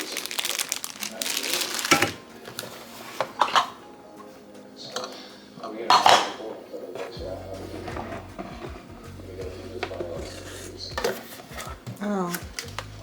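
Unboxing a Hamilton Beach 3-cup mini food processor with stainless steel blades: close crinkling packaging, rustling and hard plastic knocks and clatters come in bursts, with a steady low hum in the second half.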